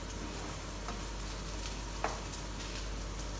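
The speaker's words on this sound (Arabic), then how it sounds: "هسه هنا خليت زيت زيتون صالح للقلي، وراح ابدي اضيف بالبصل" Chopped onions frying in olive oil in a pan, giving a steady soft sizzle throughout with a faint clink partway through; no one talks.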